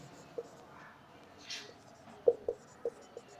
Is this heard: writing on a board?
yes